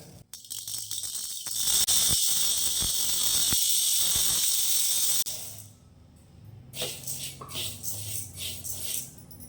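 Raw rice pours into a hot pan for dry roasting, a loud steady hiss and rattle of grains that cuts off abruptly, followed by softer scattered scraping and stirring.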